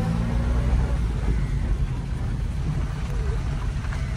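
A 1950s Italian Fiat 1100 engine pulling while driving: a continuous low, rumbling drone with road and wind noise, close and steady throughout.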